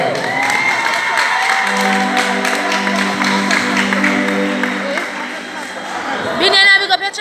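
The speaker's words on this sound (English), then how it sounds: "Give her a round of applause." Audience applause and cheering at a Jamaican gospel revival concert, a steady crowd roar with sustained music tones underneath and a voice rising near the end.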